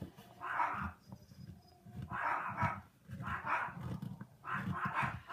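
Several dogs bark in bursts of two or three, at a distance and fairly quiet, with the barking carrying on insistently and no talking heard.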